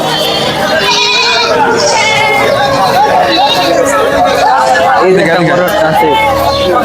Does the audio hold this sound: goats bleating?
yes